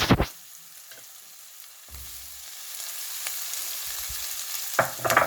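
Prawns sizzling in a pan with onions and shallots, a steady frying hiss with a few stirring scrapes and clatters at the start and end.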